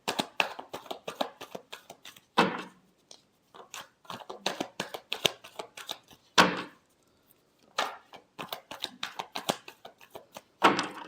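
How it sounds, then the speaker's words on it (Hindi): Tarot cards shuffled by hand in a steady run of crisp riffling and flicking bursts, with a few brief pauses and sharper snaps, close up and alone without talk. "Last shuffle."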